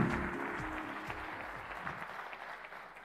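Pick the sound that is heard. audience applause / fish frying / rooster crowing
audience applause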